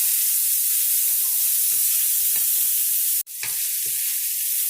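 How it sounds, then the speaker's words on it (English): Cabbage stir-fried in a pan with chicken for a spicy chicken and vegetable stir fry, a continuous loud sizzle with occasional stirring scrapes and one brief sharp clatter near the end, no talking. "After about 3 or 4 minutes of cooking that, add your cabbage. Stir it all in."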